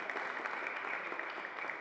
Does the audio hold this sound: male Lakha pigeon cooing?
no